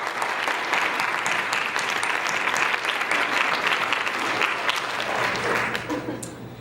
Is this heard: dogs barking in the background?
no